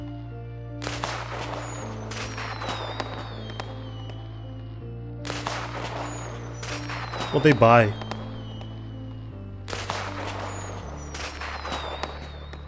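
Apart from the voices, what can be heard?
fireworks show in a Dreams horror fan video game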